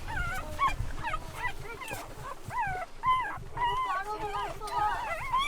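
Abandoned puppies rescued near Tafraoute, Morocco, whimper and yap in a continuous chorus of high, wavering whines and short yips at close range, with people talking quietly underneath.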